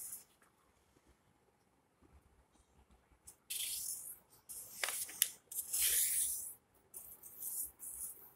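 Sheets of paper are creased and folded into a toy ship, giving a few dry crinkling and sliding bursts, fairly close and moderately loud, after a quiet start.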